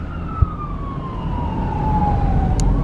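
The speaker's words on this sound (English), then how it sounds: "Some sort of siren and a train." Distant siren in Abilene, Texas, a single steady wailing tone gliding slowly downward over a low road and traffic rumble, with a brief thump near the start.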